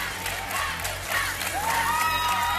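Studio audience applause and cheering after a singer's performance in a televised talent-show final, a steady dense wash of clapping with scattered whoops, held loud and even throughout.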